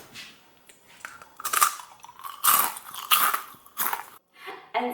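Homemade caramel popcorn is crunched in several loud, close bites spread across a few seconds, each a crisp burst of crackling between short pauses.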